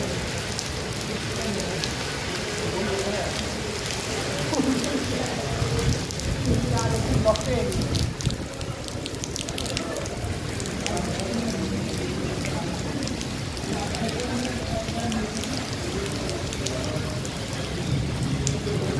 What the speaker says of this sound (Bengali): দুবাই শহরে বৃষ্টি দেখেন, দুবাই বৃষ্টি হচ্ছে